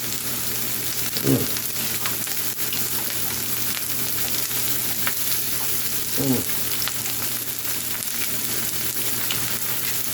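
A coffee-rubbed T-bone steak searing in a hot pan, a constant close crackling sizzle with two brief louder bursts where the meat is pressed or shifted, no talking.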